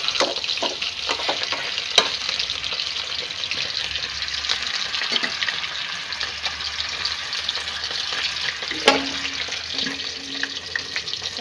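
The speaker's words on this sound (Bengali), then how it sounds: "মাছটা ভাজা হোক" Fish frying in a pan with a steady broadband sizzle throughout, alongside occasional stirring clatter and a brief tap of utensils, close and continuous with no talk.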